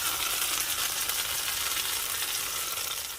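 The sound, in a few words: pambazo sandwich frying in oil on a preheated griddle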